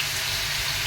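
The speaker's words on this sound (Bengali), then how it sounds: "তেলটা ছিটতে একটু" Hot oil spattering in a pan during home cooking, a steady close hiss and sizzle with no pauses, heard alone for under a second.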